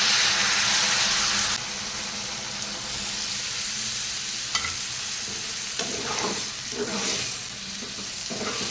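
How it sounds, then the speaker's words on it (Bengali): Water added to a frying kudri (ivy gourd) curry with green chilli and chilli powder, giving a loud, steady sizzle and hiss that dies down, followed by a few stirring scrapes in the pan. "জলটা দিয়ে দেবো"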